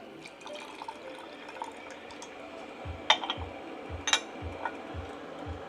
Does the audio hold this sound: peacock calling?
no